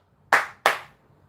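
Two sharp, close hand claps land about a third of a second apart, each ringing off briefly, with near silence before and after.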